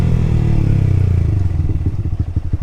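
A Yamaha R15 motorcycle fitted with an aftermarket Akrapovic exhaust rumbles at a steady low idle up close, then breaks into a rhythmic run of sharp popping throttle blips, with no talking.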